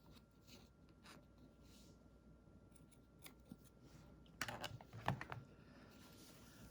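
Scissors snipping through string, a few faint rustles and small handling sounds followed by quick, close cutting snips near the end, quiet overall.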